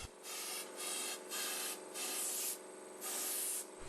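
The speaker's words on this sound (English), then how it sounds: "This needs to be removed with a wire brush." A wire brush scrubs out a drilled anchor hole in rhythmic back-and-forth strokes, about seven short bursts of close, dry scratching with brief pauses between them, no voices.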